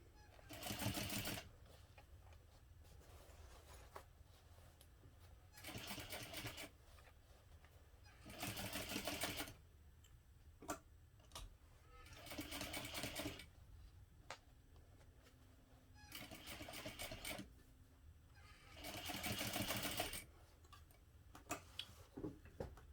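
A sewing machine stitches a backpack seam with a 1/8 inch seam allowance along a lining side panel, running in several short bursts of rapid whirring broken by quiet pauses and faint clicks.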